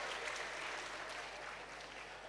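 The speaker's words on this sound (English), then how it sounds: "A big round of applause for yourselves." Freshers at a College of Health Sciences orientation give a steady round of applause, a soft, continuous patter of many hands heard at a distance without a break.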